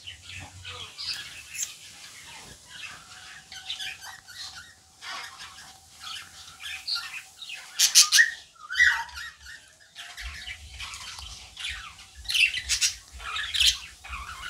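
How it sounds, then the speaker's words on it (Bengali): Pet budgerigars in a home aviary give scattered squawks, chirps and whistles, several birds calling in irregular overlapping bursts, fairly close, with louder clusters of shrill calls near the middle and end and a low background hum. "এখানে আমার এমনি অনেক বদ্রি পাখি আছে, দেখতে পাচ্ছ তোমরা"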